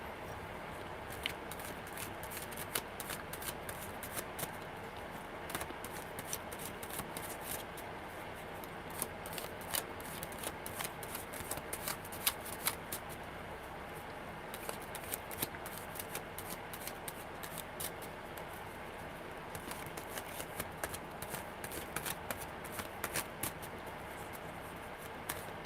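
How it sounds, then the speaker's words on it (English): Tarot cards shuffled by hand at close range, a steady crackling riffle and rustle of card edges that runs on without pause, with no talking. "Tell me when to stop shuffling."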